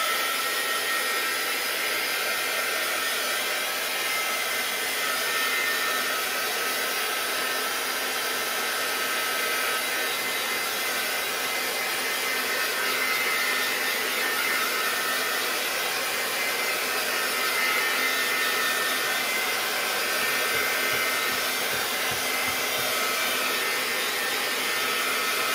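A heat tool blows steadily and loudly for the full length while drying a craft project, a constant whooshing hiss with no talk over it.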